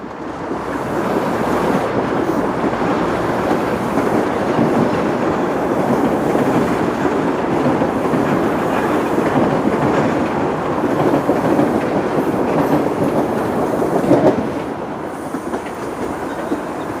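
Trains passing side by side on city railway tracks in Toronto, a loud sustained rumble and rushing roar with faint clickety-clack, steady and close for the whole stretch.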